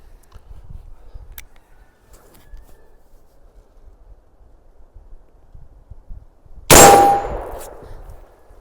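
A single loud, sharp metallic clang rings out as a 300-grain Fury bullet from a Winchester 1886 in 50-110 WCF strikes a half-inch AR500 steel plate, decaying over about a second after quiet outdoor ambience.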